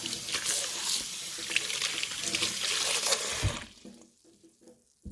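Tap water runs steadily as aloe vera pieces are rinsed in a sink, a loud continuous splashing rush for about three and a half seconds that then cuts off, leaving faint drips and trickles.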